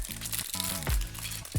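A cheap retail pack of baseball trading cards is torn open, giving a quick crinkly rip of foil wrapper in a short burst of close crackling.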